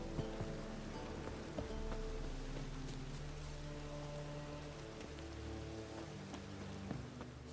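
Rain in The Witcher 3, a soft steady patter of drops on surfaces with scattered sharper drips over a low continuous wash, faint and even throughout, no voices.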